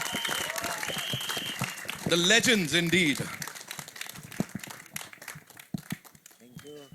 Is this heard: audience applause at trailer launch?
yes